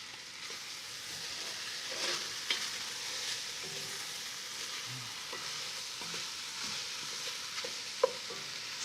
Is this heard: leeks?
yes